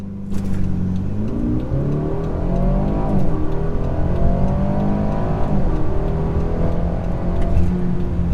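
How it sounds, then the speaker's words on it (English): Car launching under launch control in Sport Plus mode with the transmission in Sport, engine revving hard and climbing through rising pitch sweeps with brief shift dips, loud and close throughout. "that was launch control"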